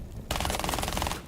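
Rapid automatic gunfire from a wallbang in the tactical shooter Rainbow Six Siege, a sustained loud burst of closely spaced shots that starts abruptly after a brief quiet moment and carries on to the end.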